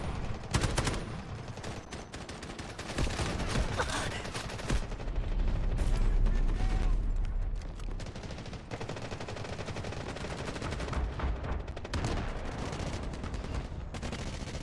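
Heavy video game gunfire and explosive blasts from a first-person shooter artillery barrage, loud and continuous, with dense rapid bursts and booming low impacts peaking midway.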